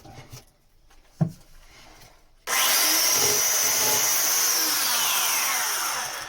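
A power sander grinds against wooden framing around windows at a Shetland house project, kicking in abruptly after a quiet stretch and a single knock, then running loud and steady until it starts to wind down.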